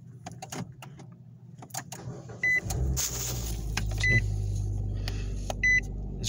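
A 2013 Nissan Versa engine cranks and catches around the midpoint, then settles into a steady low idle. Chime-like beeps sound before and after the start, and an interior hum runs throughout.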